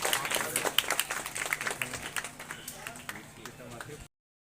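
Scattered clapping from guests at a retirement ceremony for a schoolteacher in India, sharp individual claps over a murmuring crowd, strongest at first and thinning out before stopping abruptly.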